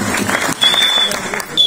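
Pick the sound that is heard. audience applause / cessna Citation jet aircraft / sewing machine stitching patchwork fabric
audience applause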